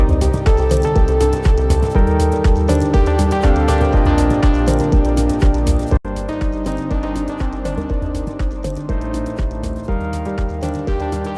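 A mastered music track plays back with full, dense mixed instrumentation and a steady beat, loud and continuous; a brief dropout near the middle is followed by a slightly quieter section.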